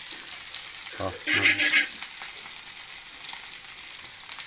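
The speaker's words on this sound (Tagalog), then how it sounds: "Prito na natin yung gulay habang yung iba ay prito." Vegetables frying in a pan with garlic and onion, a soft sizzle under the cooking, rising into a brief louder burst of crackling and stirring, while a voice speaks briefly.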